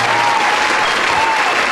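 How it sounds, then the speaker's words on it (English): Loud, dense studio audience applause fills the whole stretch, a steady close wash of clapping with a faint hum beneath. "That was like a big applause."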